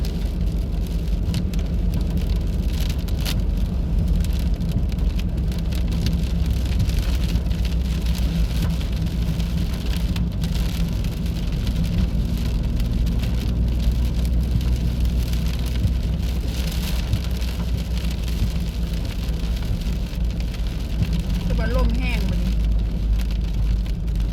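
Steady heavy rain mixed with hail drums on a car's roof and windows while driving, a dense constant hiss over a low engine rumble.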